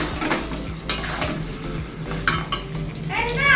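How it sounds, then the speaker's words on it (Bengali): Chicken being browned and stirred in a pan in a restaurant kitchen: a steady sizzle with spoon scrapes and pan clatter, close and fairly loud, with a few sharper metallic knocks. "আর এখানে এই যে চিকেনটা কষানো হচ্ছে"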